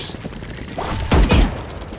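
A weapon being reloaded in a video game makes a few close mechanical clacks and a heavier thump near the middle, under speech.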